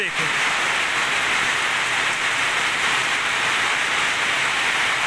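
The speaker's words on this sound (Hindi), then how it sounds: "लेकिन बारिश जो है वो बहुत तेज़ हो रही है।" Very heavy record downpour, a loud, unbroken roaring hiss of rain hitting surfaces that holds steady and close throughout, with no other sounds standing out.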